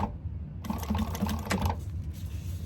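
A sewing machine top stitches a candy bag seam, starting after a short pause with a rapid, even mechanical whirr of needle strokes for about a second before slowing and stopping, close and moderately loud.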